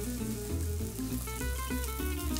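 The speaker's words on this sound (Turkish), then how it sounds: "Şimdi sarımsakları alıp 6 su bardağı sıcak suyu ilave edeceğim." Garlic sizzling steadily in a hot pot of oil while hot water is poured in for a chickpea manti soup, a loud continuous frying hiss with bubbling that runs throughout, no voices.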